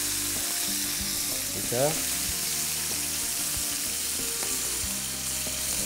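Skin-on chicken pieces for creamy Tuscan chicken fry in a pan, a continuous close sizzle and crackle with occasional spatula scrapes as the pieces are turned; a voice speaks briefly.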